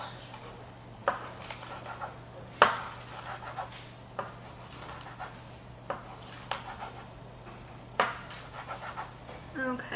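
A knife cuts vegetables into thin strips on a board for a veggie quesadilla, with scattered sharp taps and scrapes against a low steady kitchen hum, fairly quiet and close.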